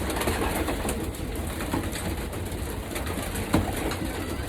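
Racing pigeon hens coo steadily inside a breeding loft, with soft repeated calls overlapping against a busy background of flapping, rustling and ambient noise.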